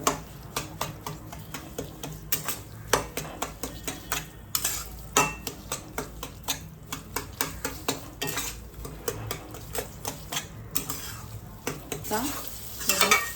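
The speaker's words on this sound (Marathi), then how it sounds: "चार ते पाच मिनिट पुन्हा रवा भाजायचा आहे" Semolina roasting in a pan for sheera prasad, stirred continuously with a utensil that clinks and scrapes against the metal in a quick, steady rhythm over a soft sizzle, close and alone.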